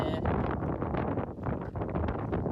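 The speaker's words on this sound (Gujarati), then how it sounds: "પવનનો ભાઈ બહુ અવાજ આવે છે" Loud, gusty wind buffets the microphone in rough bursts, a close rumbling roar with no other sounds breaking through.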